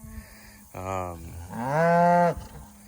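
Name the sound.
American Murray Grey cattle mooing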